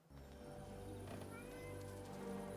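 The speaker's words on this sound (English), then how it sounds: "I heard a cat, but I see a chicken." A cat meows in the medieval game Kingdom Come: Deliverance 2, faint and brief over a steady bed of game ambience and background music.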